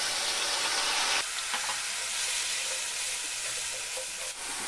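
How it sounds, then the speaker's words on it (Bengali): Chopped onion and onion paste sizzling in hot oil, a steady bright hiss that drops slightly after a second as the onion settles, continuing at moderate level with no talking. "এবার এই তেলে দিয়ে দেব কিছুটা পেঁয়াজ কুচি, দিয়ে দিব পেঁয়াজ বাটা"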